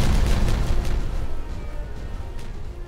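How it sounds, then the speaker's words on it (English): A video-game explosion in Timberborn blasts away a section of land, a heavy low rumbling boom that starts loud and slowly decays over about three seconds. "go ahead and get a blast one section off, because I like explosions"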